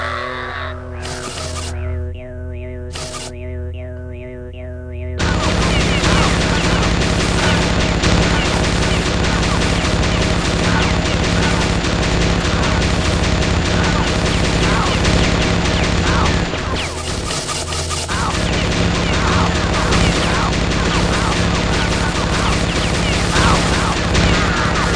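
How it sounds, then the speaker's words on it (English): Sustained gunfire in Oddworld Munch's Oddysee, loud and dense, rattling almost continuously for many seconds after a quieter opening, with booms and crashes mixed in. "Why were you shooting him?"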